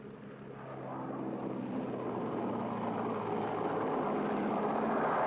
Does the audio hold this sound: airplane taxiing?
yes